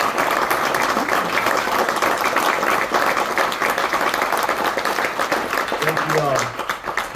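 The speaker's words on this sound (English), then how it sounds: "May we now give a round of applause to our Minnesota's own Attorney General." An audience at a book event honoring Minnesota's Attorney General gives sustained applause, dense steady clapping that fills the room and tails off near the end, with voices underneath.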